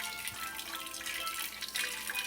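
Cold water runs steadily from a kitchen tap for washing chicken, a soft continuous splashing rush heard close and alone for a couple of seconds.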